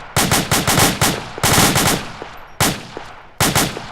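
Bursts of rapid automatic gunfire ring out loud and close in four separate strings, each a dense rattle of shots lasting under a second, with short pauses between them.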